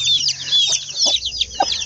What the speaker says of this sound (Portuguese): Essa galinha aqui, ela tá presa porque ela tava brigando ali com a outra.